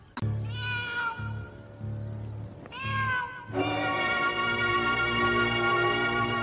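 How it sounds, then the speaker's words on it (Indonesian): A cat on a house roof meows repeatedly, close and loud, with drawn-out wailing cries that grow longer toward the end. "Oh, Restu, aku mendengar suara seekor kucing di atas atap rumah"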